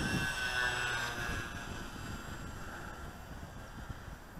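A Dynam C-47 DC-3 radio-controlled model airplane flies at a park, its electric motor a thin steady whine that fades slightly as it passes, over wind rumble on the microphone.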